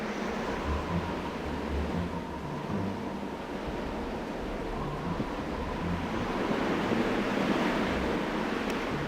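A sailing ship at sea in the video game Commander: Conquest of the Americas, with a steady wash of waves and wind rolling on without pause. The sound stays broad and even throughout, and no one speaks.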